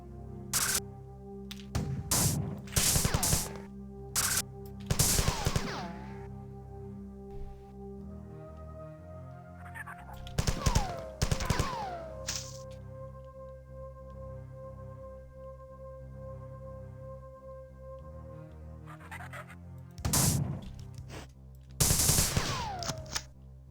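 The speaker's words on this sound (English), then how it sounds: "I figured just right click was just an alternate way of shooting my gun normally" Gunfire from the Marathon game running on the Aleph One engine: several bursts of rapid shots, loud and close, spaced apart by quieter stretches of game ambience, with no talking.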